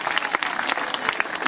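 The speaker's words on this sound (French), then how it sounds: "Je pense qu'on peut applaudir très fort Jimmy" Scattered audience clapping at a sea lion show at La Flèche zoo, outdoors. Individual claps are distinct and fairly close, forming a brief uneven patter at moderate volume.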